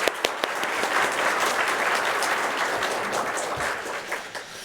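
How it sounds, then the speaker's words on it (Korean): A church congregation at a Wednesday Bible study claps together in encouragement, a dense, steady wash of applause filling the room from start to finish, with a few sharper individual claps near the beginning and end. "우리 서로를 위해서 우리 격려의 박수를 한번 보낼까요?"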